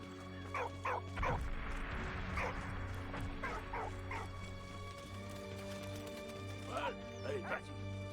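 A dog in the World War I video game Valiant Hearts barks and whimpers in short yips, with several bursts spread across the stretch over a steady game soundtrack.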